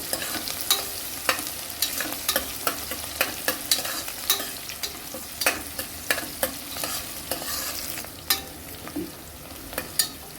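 Cluster beans tumbled into a pan of lightly browned onions and green chillies, giving a steady sizzle of frying with repeated sharp clinks and scrapes of stirring throughout.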